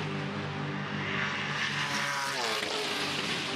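Touring Car Masters race cars, including an AMC Javelin, blare past on the rev limiter at the end of Conrod Straight at Bathurst, a loud sustained engine roar with stuttering harmonics that shift as the cars pass.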